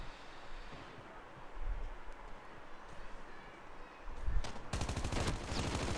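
Gunfire in Call of Duty Mobile: rapid automatic bursts, a short one near the start and a sustained, loud rattling volley toward the end over a constant background rumble.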